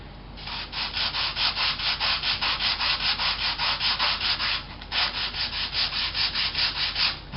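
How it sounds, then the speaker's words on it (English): Sandpaper rubbed gently across a foam elevon, a rhythmic rasping scrub in quick even back-and-forth strokes with a short pause midway, close and steady, no talking. "So we'll take some sandpaper and gently sand, so we do not want the foam to break."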